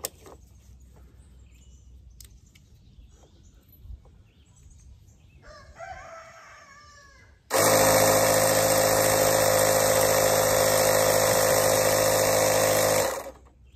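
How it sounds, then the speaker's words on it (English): An air compressor with a Schrader adapter starts abruptly and runs loud and steady for several seconds, inflating a bicycle inner tube, before cutting off; quieter handling noises come before it. "I just happen to have an air compressor with a Schrader adapter."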